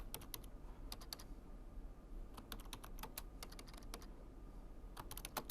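Rapid, uneven keystrokes on a computer keyboard come in quick bursts with short pauses, close and fairly quiet over a low steady room hum, with no talking.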